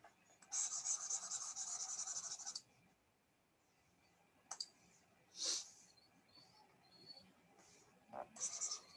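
Rubbing writing off a board during a 3D geometry lecture: a sustained rasping wipe of about two seconds, then short scrubbing strokes, fairly close and alone with no talk.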